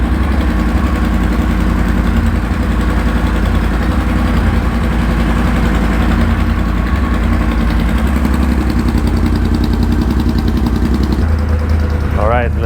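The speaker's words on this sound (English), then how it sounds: "The idle is not insanely loud. It's just very, very heavy sounding." A Triumph Bobber motorcycle with a Motone H-Bomb exhaust, baffle removed, idles steadily and close by with a deep, heavy, even rumble that runs throughout.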